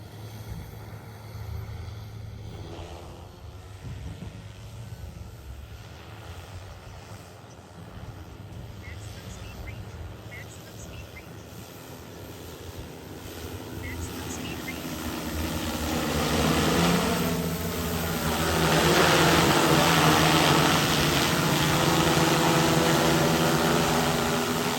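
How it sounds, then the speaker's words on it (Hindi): An agricultural drone spraying a cotton field at full pressure gives a steady whirring rotor drone over low engine-like rumble, growing louder and nearer toward the end, with what may be voices in the background. "तो ये देखो संगवारी ड्रोन है छिड़काव करत है, फुल प्रेशर में है ना"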